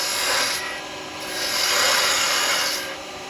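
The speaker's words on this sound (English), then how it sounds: "I'm just using my 3/8 spindle gouge." A 3/8 spindle gouge cuts a wooden Christmas bauble turning on a lathe. It makes a close, steady rasping hiss that swells twice as the tool passes over the wood, with no talk.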